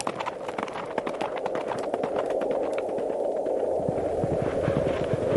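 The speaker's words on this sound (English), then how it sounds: "When he approached Rasulullah and Abu Bakr, the legs of his horse sank deep into the sand" A horse gallops as a sound effect in an animated story, with a warrior riding after travellers across sand; rapid hoofbeats run steadily under a dense, constant rumbling background.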